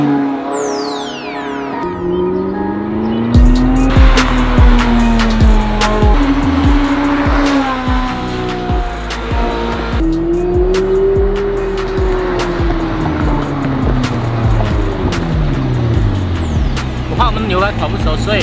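A two-million-yuan sports car is driven hard, its engine roaring loudly and steadily with rising and falling revs and gear changes, sharp transients and tire noise over continuous road rumble, with a voice talking briefly now and then.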